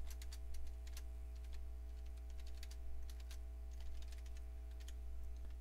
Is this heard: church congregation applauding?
no